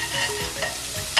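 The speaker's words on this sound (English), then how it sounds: "you're going to slightly saute the onion and garlic" Onion and garlic sauté in a hot pan for a Vietnamese sour fish soup: a continuous close hiss of sizzling with soft scraping stirs running through it.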